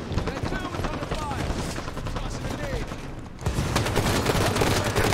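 Halo 5 multiplayer match with continuous rapid gunfire and bursts of automatic weapon fire, loud and dense throughout, swelling louder near the end.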